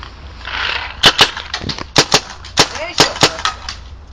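Gunshots ring out as a series of sharp, loud, close cracks, about eight in irregular bursts with brief gaps between them.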